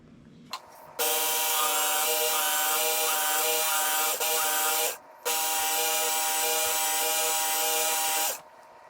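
A Work Sharp powered knife sharpener runs its honing belt against a blade, a steady high-pitched motorized whine in two long passes separated by a brief pause, loud and close with no talking.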